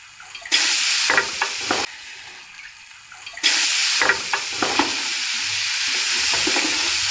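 Freshly washed, squeezed raisins stirred in a hot pan for Punjabi panjiri: two loud bursts of wet sizzling hiss, the second one long, with spatula knocks scattered through and a quieter lull between them. No talking.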